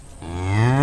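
A lone buffalo lows close by in one rising, drawn-out call that swells in loudness and holds steady at the end.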